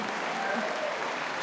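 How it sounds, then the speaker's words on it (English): Dense, steady applause from a big audience at an evening event with Brian Dawkins, a close continuous wash of clapping with no pauses. "let's give a round loud applause here as Brian does"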